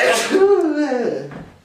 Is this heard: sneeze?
yes